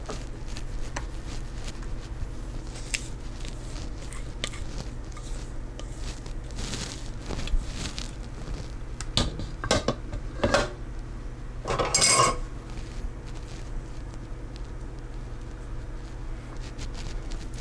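Banana bread batter scraped from a bowl into a baking dish, with scattered utensil clinks and scraping taps, a brief louder scrape cluster near the end, over a steady low kitchen hum.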